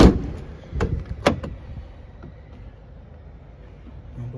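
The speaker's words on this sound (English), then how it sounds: "Another sliding door." Sliding door on a VW Caddy wheelchair-accessible van: a couple of sharp rolling clunks and a solid slam near the start, then a quiet settling rumble, no talking.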